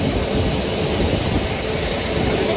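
A steady, loud, even roar of jet engines, heard from inside an airplane cabin, continuous with no breaks or voices.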